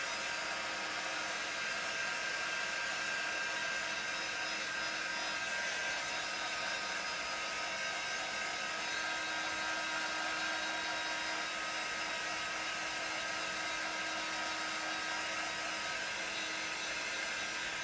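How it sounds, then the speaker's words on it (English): A hair dryer runs steadily and continuously at close range, a constant airy whir held for the whole stretch while drying blue chalk paste ink on a stencil. "And we'll dry those."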